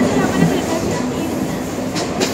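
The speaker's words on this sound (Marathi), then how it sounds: "तुम्हाला ट्रेनचा खूप आवाज येतो ऍक्च्युली ट्रेनमध्ये" Steady rumbling noise from inside a moving train on the Borivali–Malad suburban line, filling the whole clip with a continuous low roar and faint rattling, with a couple of brief higher squeals near the end.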